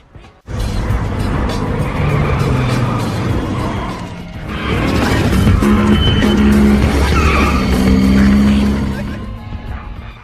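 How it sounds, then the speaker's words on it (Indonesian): Several race cars arrive with a loud engine roar and screeching, skidding tires, swelling twice over about ten seconds before cutting off, with some voices faintly mixed in. "Tiba-tiba beberapa mobil balap mendatangi tempat itu"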